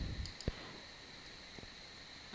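A few sharp computer mouse clicks, sparse and faint, set against a steady electronic hum with no talk.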